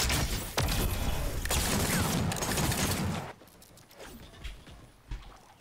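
Six shooter revolver fire in Fortnite: loud close sharp shots and clattering game effects for about three seconds, then a sudden drop to quieter scattered clicks and mechanical sounds, with a few faint hits near the end.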